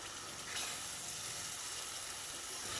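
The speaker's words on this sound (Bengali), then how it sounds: "এবার সবগুলোকে খুব ভালো করেই আস্তে আস্তে কষিয়ে নেব।" Jackfruit, potato and prawns slowly sautéed in a pan over medium heat, making a soft, continuous sizzle with faint stirring and no voices.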